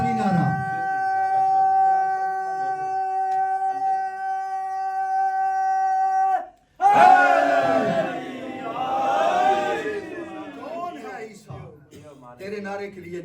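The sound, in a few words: crowd chanting a religious slogan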